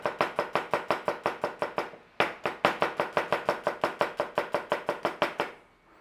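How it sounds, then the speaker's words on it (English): A knife fine-slices garlic on a cutting board in quick, evenly spaced chops, a close and crisp steady rhythm of about five cuts per second with one brief pause, and no talk. "Now we need to take some garlic, we're going to fine slice it."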